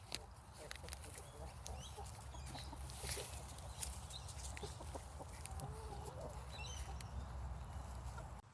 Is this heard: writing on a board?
no